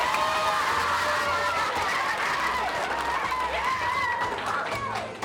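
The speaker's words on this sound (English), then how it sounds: "Can I get a big round of applause for her?" A crowd applauds a fourth-grade teacher, with clapping mixed into cheering, whoops and excited chatter that run steadily across the whole stretch before easing off at the end.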